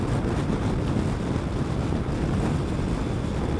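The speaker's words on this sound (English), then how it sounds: "that wind noise is a bit much, to be honest" Wind roars over the microphone during a ride on a Triumph motorcycle, a loud, dense, continuous buffeting rush with a rumbling low end and no pauses.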